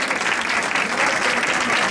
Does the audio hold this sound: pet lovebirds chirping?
no